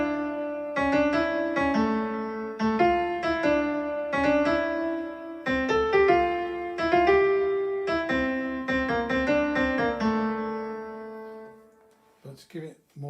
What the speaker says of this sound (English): the melody, this is just on the piano side